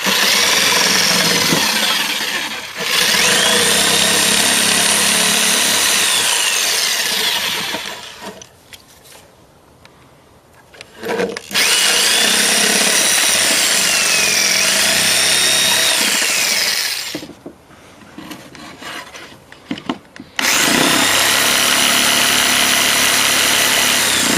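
A wooden stair stringer is cut with a saw, loud continuous rasping cutting in long runs that break off into quieter pauses near the middle and start up again, no talking.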